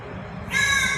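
A crow in Ayodhya caws once, a loud, close, raspy call that begins halfway through and holds to the end after a quiet start.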